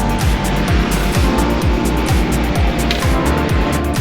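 A ride-hailing car pulling away through Saigon traffic: a steady, loud engine and road rumble with repeated rhythmic low thumps, no talking.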